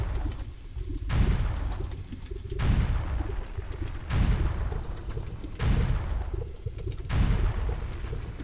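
Bombs explode in Ocarina of Time, a series of about six heavy, booming blasts at roughly one-and-a-half-second intervals, each decaying into a rumbling tail.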